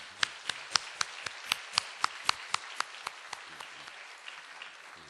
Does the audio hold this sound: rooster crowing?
no